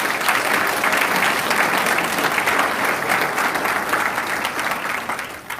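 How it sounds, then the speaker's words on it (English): Steady, dense applause from a graduation audience at a sheriff's office law enforcement academy ceremony, sustained and fairly loud throughout before tapering slightly at the end. "So let's give all of our guests a round of applause for being here."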